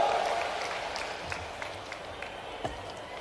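Quiet, distant applause from a crowd at an outdoor government event for the Prime Minister at Kuno National Park, a faint continuous patter under murmuring voices.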